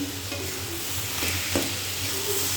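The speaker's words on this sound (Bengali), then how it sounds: "এরকম নাড়াচাড়া করতে করতে পুরোটাই টানিয়ে ফেলব" Cabbage frying in a pan gives a close, steady sizzle punctuated by a few scraping stirs of the spatula, with no one speaking.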